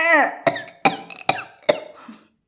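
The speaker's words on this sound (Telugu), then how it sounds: "దగ్గు తెర ముంచుకొచ్చింది." A short run of harsh coughs from a man, four or five sharp bursts in quick succession, close and loud, following a strained vocal sound.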